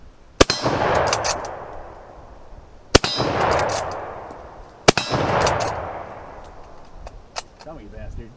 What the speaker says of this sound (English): Do a Mad Minute with the rifle that was actually made for it.